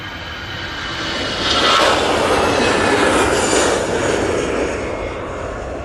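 An Aer Lingus Airbus A320 jet departs Manchester Airport, a broad roar that swells to a peak midway and then slowly fades as the aircraft recedes.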